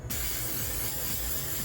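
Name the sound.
setting spray being sprayed on face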